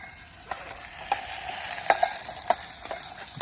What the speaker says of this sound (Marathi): टोमॅटो टाकतो मित्रांनो.